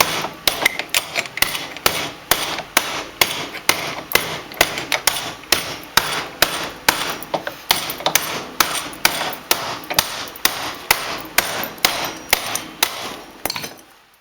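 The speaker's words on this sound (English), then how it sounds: "What we're going to do is start hammering it down into the bowl." A ball-peen hammer drives sheet metal down into a bowl form for a finger gauntlet, giving loud, close, sharp metallic strikes in a steady rhythm of roughly two blows a second, with no talk.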